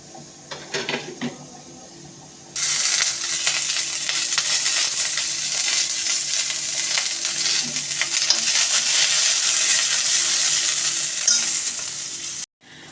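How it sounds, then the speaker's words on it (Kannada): Onions go into a hot oiled pan: a few light clinks and stirs, then a sudden loud, steady frying sizzle bursts up and continues close by until a brief cut near the end. "ಈ ತರ ಫ್ರೈ ಮಾಡ್ಕೊಂಡು ಈಗ ಅದರೊಳಗೆ ಉಳ್ಳಾಗಡ್ಡಿನ ಹಾಕೋತೀನಿ"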